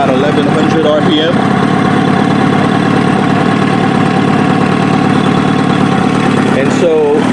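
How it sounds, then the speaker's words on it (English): A Kawasaki ZX7R motorcycle engine idling at about 1100 RPM, a loud, steady low rumble close by throughout, with a brief mechanical rattle near the end. "the bike idle has stabilized to about 1100 RPM"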